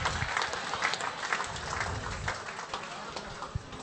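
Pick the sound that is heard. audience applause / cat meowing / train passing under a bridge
audience applause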